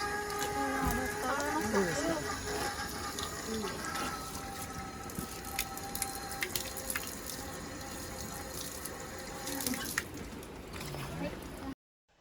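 Water running from a standpipe with a steady splashing flow close by, mixed with faint clinks and background voices, stopping abruptly at the very end.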